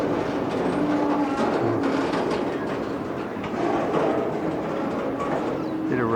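A freight train rolls past on an old Conrail main line, a loud, continuous rumble of wagons with wheel squeals and clanks, close by and without talk.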